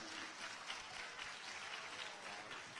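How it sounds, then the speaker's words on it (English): A school audience applauds after a performance, a steady, fairly faint wash of clapping that carries on evenly for a few seconds with no clear voices. "Another round of applause."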